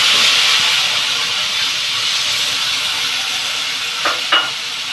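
Onion and ginger frying in hot oil, a steady hiss and sizzle filling the background with a couple of brief stirring clinks near the end.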